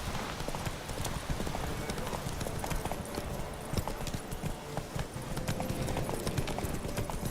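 Roach the horse galloping in a video game, a rapid steady clip-clop of hooves running continuously and loud, over a dense background bed.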